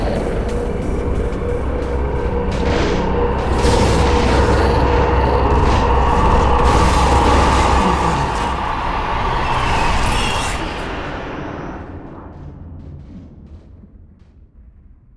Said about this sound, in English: the Citadel core finally fails, destroying the entire city